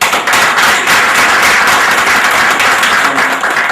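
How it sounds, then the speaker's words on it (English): After a distinguished lecture, a packed hall bursts into loud, close applause, many hands clapping in a thick continuous roar for the whole stretch. "Please give a big clap."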